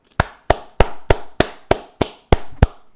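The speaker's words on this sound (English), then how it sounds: "Give them a round of applause, everybody." Nine sharp, evenly spaced claps ring out in a quick steady rhythm, loud and close, like a single person applauding alone.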